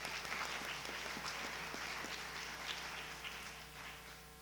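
Quiet, steady applause fills a history awards ceremony hall for the student finalists, continuous clapping that fades slightly toward the end.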